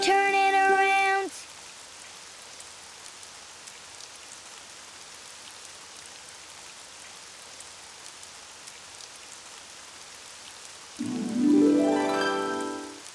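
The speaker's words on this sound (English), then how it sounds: "it's raining outside" Rain falling outside, heard as a steady, soft patter of drops on surfaces that continues evenly throughout a children's cartoon scene. Short bursts of musical or sung tones sit at the start and the end.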